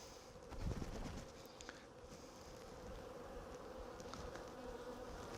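Honey bees buzz steadily around a hive as syrup-laden frames are shaken in cold weather, a dense low hum with a brief louder burst near the start and no talking.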